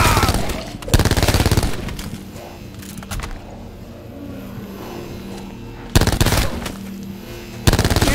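Bursts of rapid machine-gun fire break out in loud, dense volleys separated by quieter stretches of rumbling background.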